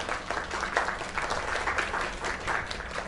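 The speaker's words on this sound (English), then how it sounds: "Another round of applause." An audience at a singing performance bursts into sustained, dense applause, with many hands clapping steadily and loudly for several seconds.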